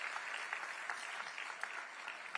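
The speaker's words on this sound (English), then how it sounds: "a round of applause." A faint, distant room of audience applause at a 2023 State of the City address, a soft continuous patter of clapping with no voices.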